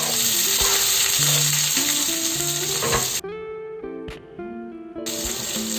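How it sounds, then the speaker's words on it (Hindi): Chopped ginger and onion sizzle loudly in hot oil for masala rajma, a steady broadband hiss with stirring scrapes, dropping out briefly before the frying resumes. "कटे हुए अदरक, और साथ में ही थोड़ा प्याज डाल देती हूँ।"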